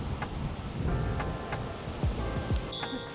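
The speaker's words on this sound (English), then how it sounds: "Oh, it's so windy." Gusty wind buffets the microphone in a steady low roar at a hotel in Doha, with scattered faint tonal sounds and brief thumps in the background.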